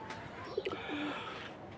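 Domestic pigeons coo softly in a short low burst near a loft, with faint background hiss and no talk.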